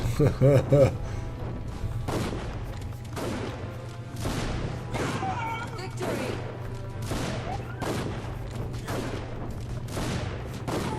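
Gunfire and explosive booms in the action RPG Dungeon Siege 3, a steady stream of sharp impacts every second or so over a low rumbling bed, with a voice speaking near the start.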